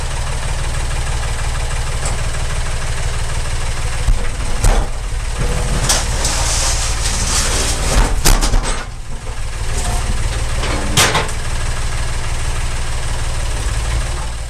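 A small engine idles steadily and loudly with a low, chugging rumble and a few brief clanks, heard up close with no talking.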